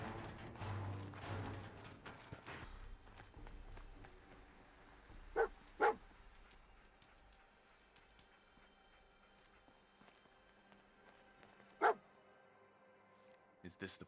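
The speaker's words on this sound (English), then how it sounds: "Who's a good dog?" Sharp, loud barks from the companion dog in the video game Fallout 4 stand out in a quiet scene, a close double bark followed later by a single one.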